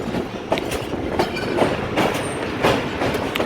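The Jaffar Express runs on the tracks between Lahore and Rawalpindi in a continuous loud rumble, with rhythmic clickety-clack wheel beats heard close up from on board.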